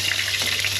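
Garlic hitting hot oil in a pan, cooking for black bean adobong sitaw, makes a steady close sizzle with a bright hiss and no talking over it.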